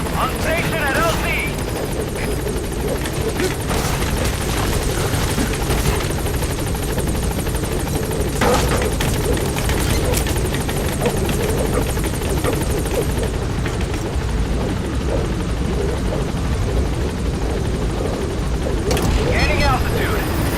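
B-Quad support helicopter from Metal Gear Solid V arriving at a landing zone, a loud continuous rotor thump and turbine roar that stays close and steady throughout, with radio-style speech over it.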